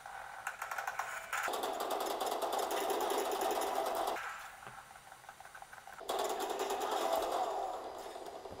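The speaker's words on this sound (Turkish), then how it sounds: "Kulaklıksız olarak oynuyorsanız Red Switch ses olarak tabii ki de daha rahat ettiriyor sizi." Rampage Exhero mechanical keyboard with red switches, typed on rapidly during gaming. A dense, steady clatter of keystrokes runs in long bursts, with a brief quieter stretch in the middle.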